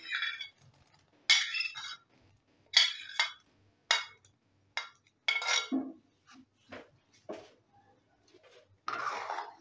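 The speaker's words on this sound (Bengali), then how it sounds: "এবারে আমি দিয়ে দিচ্ছি ভেজে রাখা পনিরগুলো।" Fried paneer pieces dropped into thickened milk for paneer payesh, heard as a series of close, distinct metallic clinks of a spoon against the pot, spaced about a second apart.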